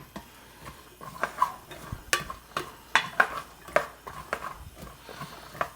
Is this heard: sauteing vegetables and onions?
yes